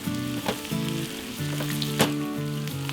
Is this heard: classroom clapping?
no